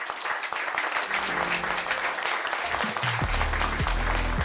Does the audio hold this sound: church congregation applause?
yes